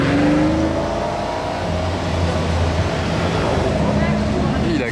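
A supercar accelerates hard on a street among exotic cars, a loud, near engine roar with rising tones sweeping upward over a few seconds, with voices talking over it.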